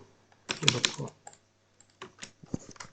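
A quick flurry of clattering keystrokes on a computer keyboard, followed by a few scattered, separate key taps, close and fairly crisp.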